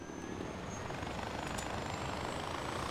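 A helicopter in the video game Far Cry 4 gives a steady, loud rotor and engine drone that holds without pause, with no talk over it.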